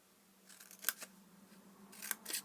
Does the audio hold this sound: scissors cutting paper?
yes